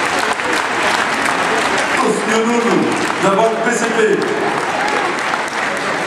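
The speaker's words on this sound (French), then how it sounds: "on applaudit s'il vous plaît" Audience applause at a partners' event fills the room with steady, dense clapping, while someone speaks over it.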